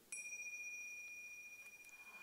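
A meditation bell rings once during a mind-fitness workshop, its clear, quiet tone struck sharply and then sustained, fading slowly over about two seconds in a hushed room.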